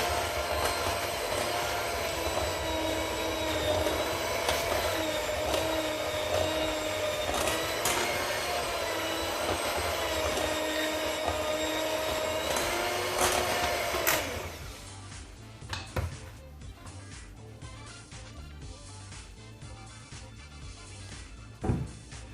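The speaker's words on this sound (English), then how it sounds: "So I'll be adding less at a time as I'm mixing." Electric mixer beating vanilla cake batter, a steady loud whirring drone with faint rattles that cuts out about two thirds through, leaving quiet clinks and handling noise.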